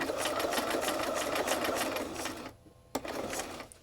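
A sewing machine stitching a monoprinted bookmark, a fast steady mechanical chatter running close and continuous for over two seconds, then a brief pause, a click and a short restart.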